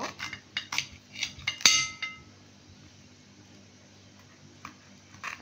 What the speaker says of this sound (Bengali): কলাগুলো আমি কেটে নিয়েছি মাঝখান দিয়ে।